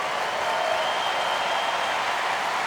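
A tennis crowd at the US Open applauds continuously, a dense, even wash of clapping that holds steady throughout without voices.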